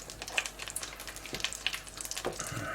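Butter sizzles softly in a hot pan on a quiet, close crackle with small scattered pops and a light hiss.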